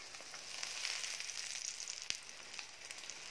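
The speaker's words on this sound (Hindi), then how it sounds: "घी लगाने के बाद अच्छे से पराठे को फ्राई कर लें" Egg paratha crisping in ghee on a pan, a soft, fairly faint sizzle with light crackles and one brief tap near the end.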